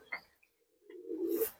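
A Red American fancy pigeon coos once inside a breeding loft, a short soft low coo that rises near the end, faint and close with a brief flutter before it.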